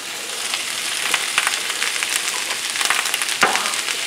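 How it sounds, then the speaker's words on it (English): Green, red and yellow stoplight bell peppers sautéing in a pan for steak fajitas give a steady, close hiss of sizzling, with occasional sharp crackles and pops breaking through. "So we've got some stoplight peppers, what we call the green, red, yellow. We're gonna saute those a little bit."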